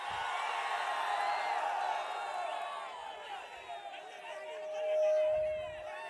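Crowd noise at an AIADMK election campaign rally in Gangavalli, a steady wash of chatter and cheering with scattered whoops, swelling again briefly near the end.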